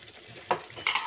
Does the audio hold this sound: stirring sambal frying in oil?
yes